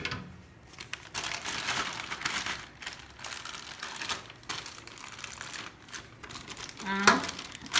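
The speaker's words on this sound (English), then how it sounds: "So now I'm going to prepare my piping bag." A plastic piping bag is handled for choux pastry, giving close crinkling and rustling of plastic throughout with a brief sharper rattle near the end, quiet, with occasional speech.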